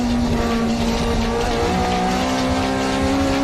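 J's Racing EF8 Honda CRX time attack race car, a 750 kg build with a 250 hp B18C engine, lapping Tsukuba circuit: a loud, sustained engine note at high revs with tire squeal, heard close and alone.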